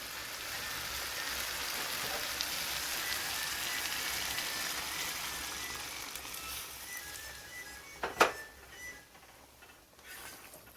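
Water poured into a pot of sizzling mutton curry gives a steady, rain-like hiss and patter that runs for several seconds, then a sharp splash-burst near the end before it settles down to a quieter simmer.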